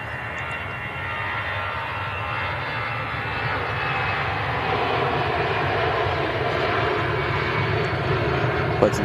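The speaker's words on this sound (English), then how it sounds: "Quite an early rotation there from that EasyJet to Belfast" An EasyJet airliner takes off for Belfast, its jet engines giving a steady broad roar that swells gradually and holds for the whole stretch, distant but continuous.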